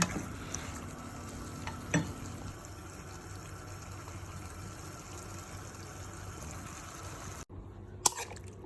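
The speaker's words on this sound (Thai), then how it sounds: "ใส่มักกะโรนีลงไปผัดให้เข้ากัน" Macaroni in cream sauce being stir-fried in a pan, a faint steady low sizzle with a couple of light utensil knocks and a sharp click near the end, quiet and close, no talking.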